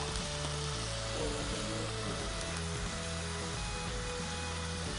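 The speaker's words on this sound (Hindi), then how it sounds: "इसमें ऑयल डाला हमने और इसमें अंडे डाल देंगे जो हमने उबाले हैं अंडे" Boiled eggs frying in hot oil in a pan for golden colour, a steady dense sizzle running throughout at even loudness, with a low hum underneath and no talking.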